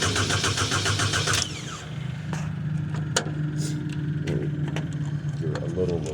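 Diesel engine on auctioned Chinese equipment cranks with a rapid rhythmic starter churn for about a second and a half, then stops without catching, leaving a low steady drone and scattered clicks and knocks; a voice is heard faintly.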